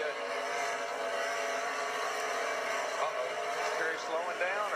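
Race car engines in a motor racing broadcast make a dense, continuous high-pitched roar with faint pitch sweeps as cars pass. Commentators talk over it throughout.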